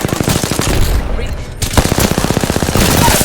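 Rapid automatic gunfire in a shooting video game, dense rattling bursts close and loud, briefly stopping for a moment before resuming with fast repeated shots.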